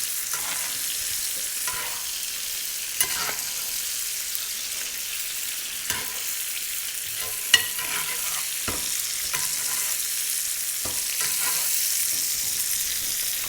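Monkfish wrapped in pancetta frying in butter with sage leaves in a pan, a steady bright sizzle with occasional small pops and utensil clicks, close and continuous with no talking.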